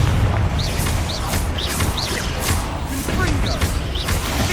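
A Bombarda blasting spell in Hogwarts Legacy, heavy, booming blasts sounding over dense, continuous game action, with whistling effects repeating throughout.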